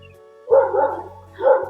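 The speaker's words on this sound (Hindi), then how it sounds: "वैसे बगल पे एक कुत्ता है। वो इतना भौंक रहा है" A neighbour's dog in a village barks twice, short and loud, close by, with a low steady hum underneath.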